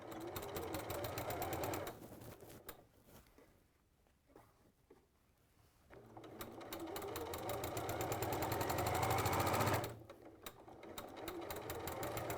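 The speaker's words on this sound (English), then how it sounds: "I'm going to put down my lining like that and then just sew across." Sewing machine running in two long bursts of steady stitching across a bag lining, with a quiet pause between them and a brief restart at the end, close and clear.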